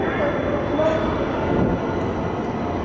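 A loud, continuous rumble of a subway train arriving at North Side station in Pittsburgh fills the platform, steady and close throughout.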